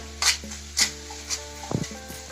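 Curry leaves frying well in oil for a sweet raw mango pachadi give off a soft, low sizzle, with a few brief spatter bursts and light stirring clinks in a quiet kitchen.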